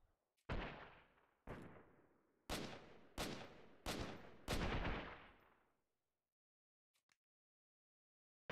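Six loud semi-automatic gunshots ring out in the video game Freeman: Guerrilla Warfare, spaced irregularly about a second apart, each with a booming echoing tail, followed by silence and a couple of faint distant clicks.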